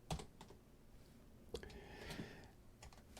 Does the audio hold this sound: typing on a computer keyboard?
yes